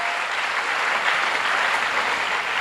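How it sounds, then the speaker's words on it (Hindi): Audience applause at an inspirational talk, a dense continuous burst of many hands clapping, loud and steady throughout. "इन सब विशेष के लिए एक छोटी सी तालियां हो जाए प्लीज"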